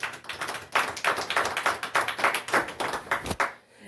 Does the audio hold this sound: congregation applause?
yes